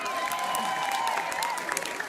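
Concert crowd applauding and cheering for a performer at a live hip-hop show, a steady wash of clapping with a few whoops and faint voices mixed in.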